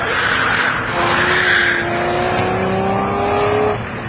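Jaguar XJS and saloon race cars run at Donington during a night race. Their engines roar loud and close and hold revs before fading, with a commentator talking over them.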